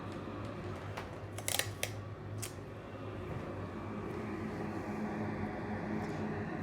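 A fresh strip of masking tape being pulled and torn off at a guitar pickup install, a few short crisp rips and clicks close by over a faint steady hiss.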